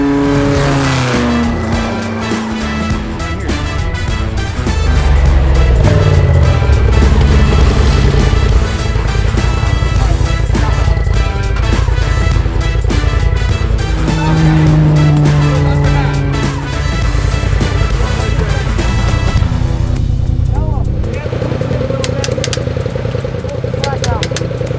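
A Razor side-by-side pushes hard through an off-road race at the NORRA 500 in Baja, its engine droning and revving loudly throughout with shifting pitch, while voices talk over the noise inside the cab.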